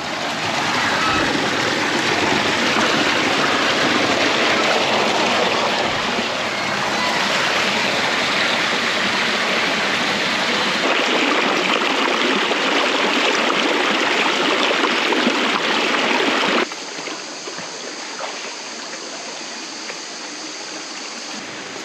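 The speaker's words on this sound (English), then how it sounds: "now pretty much walking in the water." Rushing stream water flows loudly and continuously close by in a gorge at El Questro, Australia, then drops to a quieter, thinner trickle near the end.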